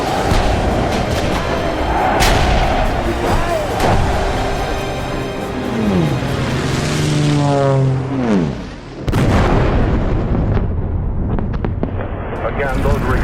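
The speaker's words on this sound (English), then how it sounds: "those were explosions overhead" Wartime bombs burst overhead in World War II archive recordings: heavy booms and rumbling blasts, one with a falling whistle sliding down in pitch before a sharp explosion, then further crashes, all amid a roaring, crackling broadcast background.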